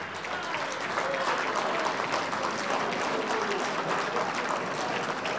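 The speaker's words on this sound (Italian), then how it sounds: "Gli faccio concorrenza, facciamogli un applauso a Brigantone, non lo viste?" A crowd at an Easter Monday fraternity gathering gives a sustained round of applause, a thick, even patter of many hands that holds steady at moderate loudness throughout.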